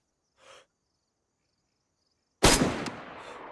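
A single sharp gunshot cracks loudly in a video game on a Z server, then decays into a brief tail after a faint earlier sound.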